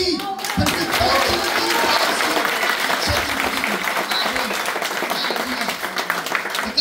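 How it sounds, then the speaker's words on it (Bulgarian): A church congregation applauds loudly and steadily at a Christmas service, a dense, sustained clapping that fills the space throughout. "Вие добре ръкопляскате"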